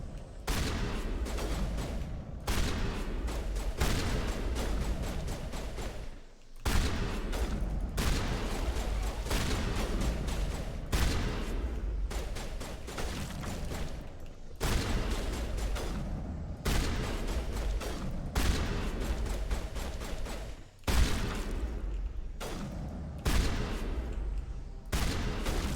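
Continuous rapid gunfire in the video game Mass Effect 1 as a dense stream of sharp shots and bursts, with brief lulls between long volleys.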